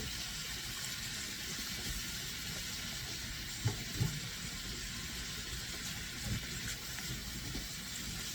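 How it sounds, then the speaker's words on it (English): Bacon and onions sizzle steadily in a hot pan for a warm potato salad, a dense, even hiss close by with a couple of brief pops and no talking. "So the bacon will finish cooking with the onions in here."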